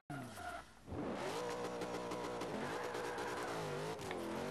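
A wheelie-tuned Beetle in the Forza 5 racing game revs hard and climbs through the gears, a loud continuous engine drone with rising pitch sweeps and brief tyre noise.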